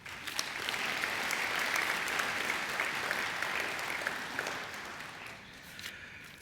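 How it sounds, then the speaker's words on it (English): Audience applause at a university graduation ceremony, a sustained, even patter of many hands clapping from a large seated crowd, fading slightly near the end. "I think they deserve a round of applause too"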